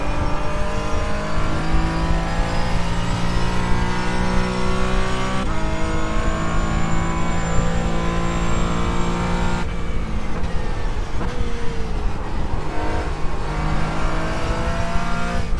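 A Mazda or Porsche GT4 race car in iRacing at Spa-Francorchamps revs hard and continuously while sliding, its loud engine whine shifting pitch through gear changes and tire scrub.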